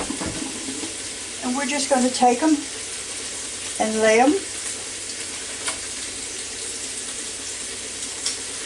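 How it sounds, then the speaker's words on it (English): Soaked potatoes drained of their water, heard as a running, splashing pour alongside a frying sizzle, with a voice speaking over it in short phrases. "I'm going to drain my potatoes that I had in water just so they would stay fresh."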